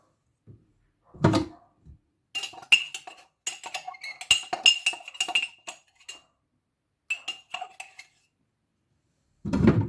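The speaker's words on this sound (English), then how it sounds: "I'm just mixing it fast" Lemon marble cake batter being mixed fast in a bowl, a quick series of metallic clinks and scraping taps in bursts with pauses between, close up and with no talk.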